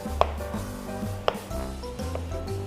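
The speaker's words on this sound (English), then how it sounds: "We're just gonna cut this in quarters, like so, and toss that right in." A knife cuts tomatoes into quarters for Filipino sinigang na baboy, with two sharp, close chops on a board over a low background hum. No one speaks.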